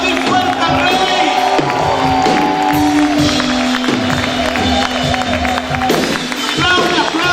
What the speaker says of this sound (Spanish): Vamos a gritar y aplaudir fuerte al Rey.